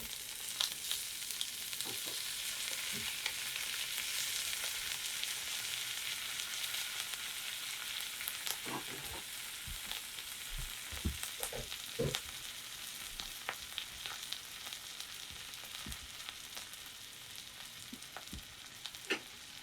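Chicken sizzles in a pan with thyme and melting butter, giving a continuous close frying hiss scattered with sharper pops and crackles for the full stretch.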